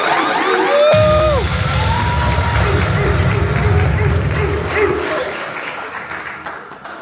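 Audience applause for an award winner at an awards event: broad, sustained clapping with crowd cheers and some voices mixed in, loud and close throughout, tapering slightly toward the end.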